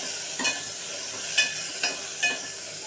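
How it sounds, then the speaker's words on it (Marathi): Chopped tomatoes frying with cabbage and potato in a pan for kobi batata bhaji, a soft steady sizzle punctuated by four quick stirring scrapes of a spoon at irregular intervals. "आता आपण टाकायचं आहे चिरलेला टोमॅटो"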